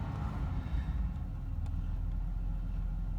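A Jaguar XJ6 Series 3 engine idles with a low, steady rumble, a faint rattling, scraping timing-chain noise running continuously underneath.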